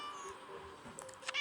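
A video game cat meows once or twice over a steady electronic hum, fairly close and moderately loud.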